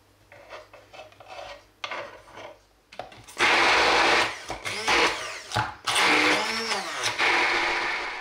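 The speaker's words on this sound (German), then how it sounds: "Auch dann pürieren wir das Ganze wieder kurz durch, damit auch der Knoblauch schön fein püriert wird." Kitchen blender pureeing a mixture with garlic, running in a few short pulses and then longer loud whirring bursts separated by brief pauses, close up.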